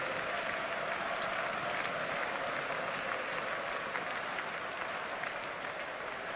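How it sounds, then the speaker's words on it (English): A packed arena crowd at an esports final in the Royal Arena, a Counter-Strike Blast Pro Series match between Astralis and SK Gaming, roars and applauds continuously, a dense, loud and steady wash of clapping and cheering. "The crowd has gone absolutely mad here."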